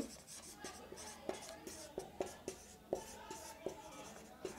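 Marker or chalk writing on a board during a physics lesson on wavefront shapes: a close series of quick strokes and taps in an irregular rhythm, with faint voice in the background.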